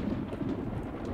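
In the video game Project Zomboid, rain falls as a steady low hiss under a soft, continuous thunder rumble, moderately loud, with no talking.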